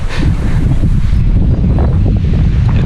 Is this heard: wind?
yes